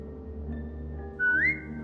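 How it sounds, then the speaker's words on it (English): A person whistles in The Walking Dead: The Telltale Definitive Series to call a trained dog, a short clear rising whistle over a quiet low game ambience. "Now whistle and tell her to lie down."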